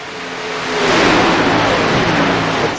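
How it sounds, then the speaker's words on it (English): Race cars roar past at full speed during the Big Kahuna 400, engine noise swelling as a car approaches and then sustaining a loud, rising whine. "Let you hear these cars go around here at full song."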